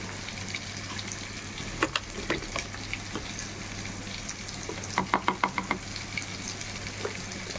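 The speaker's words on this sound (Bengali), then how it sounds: "এটা এদিকে হচ্ছে, ভাজা হতে থাকুক" Chili chicken frying in a pan just after lemon juice goes in, a steady low sizzle with a few sharp crackles and pops, loudest in a quick run near the end; no one speaks.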